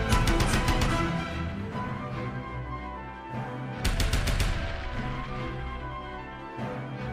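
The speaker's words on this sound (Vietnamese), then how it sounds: "Tiếng súng rền vang khắp không trung." Rapid bursts of automatic gunfire rattle loudly and repeatedly, dense volleys with echoing booms underneath, no voices.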